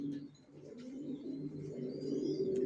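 Racer pigeons, young original racer birds kept for sale, coo in low, steady murmuring tones close by, with soft rolling calls continuing throughout and no talking.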